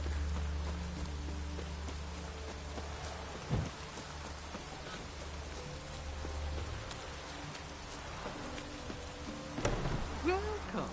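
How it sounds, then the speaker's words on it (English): Steady rainfall in The Witcher 3, a soft continuous patter with a low rumble of distant thunder underneath and occasional faint knocks, fairly quiet throughout. "Rain again."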